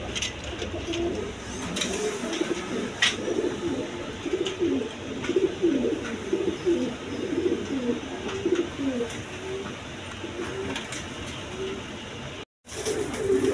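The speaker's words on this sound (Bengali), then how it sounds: "বিভিন্ন রকম কবুতর আছে দেখেন, ডিম বাচ্চা সব।" Pigeons, including black and white fancy breeds with eggs and chicks, coo steadily in a loft in repeated low rolling phrases, fairly close and moderately loud over a soft background hiss.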